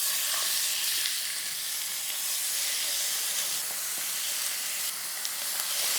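Chicken pieces fry in a pan with just a few drops of oil over medium-low heat, giving a steady, dense sizzle and hiss that carries on evenly and closely throughout, with no voices.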